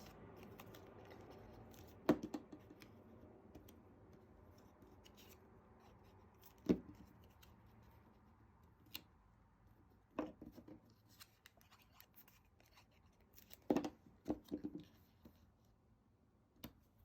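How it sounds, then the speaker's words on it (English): Scissors trim the overhanging edges of layered paper on a handmade card, a handful of sparse, quiet snips and rustles spread out with long pauses between cuts, close up in a quiet room. "then I'm going to trim off the sides that overhang."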